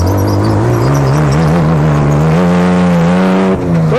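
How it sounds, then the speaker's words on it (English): A Baja car on a race track spinning its wheels, its engine roaring loud and close as the revs climb steadily with a brief dip near the end. "A lot of wheel spin on that one."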